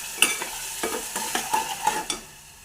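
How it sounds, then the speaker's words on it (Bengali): Small potatoes with salt, sugar, chili powder, turmeric and a little water being stirred and sautéed in a pan, with a series of distinct scraping stir strokes over a soft sizzle, close and fairly quiet, no talking. "এবার এই জিনিসটাকে ভালো করে কষাতে হবে"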